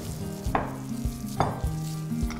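A sticky base mixture with a little lemon juice is stirred. Two sticky, slurping sweeps come about a second apart, with light clinks of the utensil against the bowl. The sound is close and moderately quiet, with no talk.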